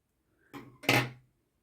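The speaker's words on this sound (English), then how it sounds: "I need some scissors now." Scissors snip through knitting yarn in two quick, close cuts, the second louder and crisper, then quiet.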